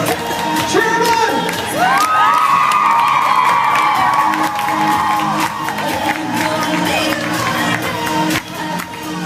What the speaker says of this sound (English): Cheer him on!